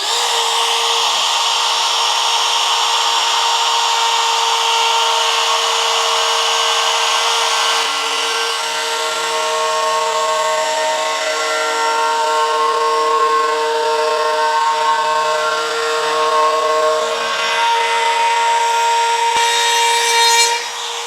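A router cuts T-track channels into a large 3.6 m by 1.6 m wooden workbench top, a loud continuous whine with shifting tonal harmonics that runs unbroken for about twenty seconds, with no voices.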